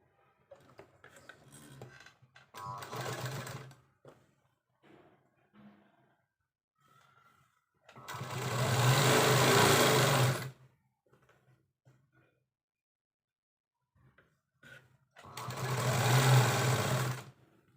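A sewing machine stitches the sleeve of a simple baby frock in three bursts: a short run, then two longer, steady whirring runs, with quiet handling noises in the pauses between them.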